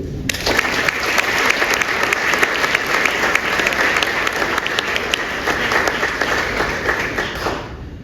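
An audience at a literary prize ceremony applauds an author being presented for a debut novel, a full, even round of clapping from many people that holds steady for about eight seconds before ending abruptly.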